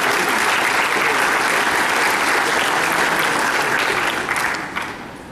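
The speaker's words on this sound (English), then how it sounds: "Give her a round of applause, folks" A large crowd applauds at a cosplay contest during a convention, with loud, dense clapping held steady for several seconds before it tapers off near the end.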